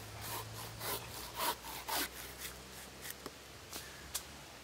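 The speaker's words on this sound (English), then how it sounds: "We'll just give the little TSURUGI a go. Oh, look at that. Just cut straight through it." A small Silky Tsurugi pruning saw cuts through she-oak wood in a run of rasping strokes, some louder and longer, then shorter, lighter pulls near the end; close and alone, with no talk.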